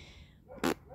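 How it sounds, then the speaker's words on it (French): A single short dog bark, fairly close, cutting through a quiet background. "Je sais pas si vous entendez Scott aboyer"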